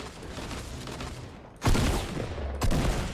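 Fortnite gunfire: a sudden loud, close shot bursts out of a busy in-game background, followed about a second later by a second sharp shot and its lingering rumble.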